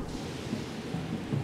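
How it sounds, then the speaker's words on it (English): Steady rain hiss with low rumbles of thunder in The Legend of Zelda: Tears of the Kingdom, a continuous wet wash with faint rolling booms underneath. "That should work even in the rain."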